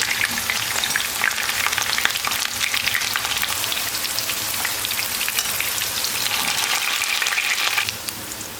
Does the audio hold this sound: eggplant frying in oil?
yes